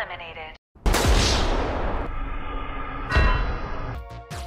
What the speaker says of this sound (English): if we move during a red light, we get shot.